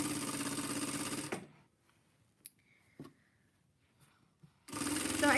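A sewing machine stitching a baby Christmas tutu outfit runs in a fast, even buzz, stops for a few seconds of near quiet with small handling clicks, then starts up again, close and loud.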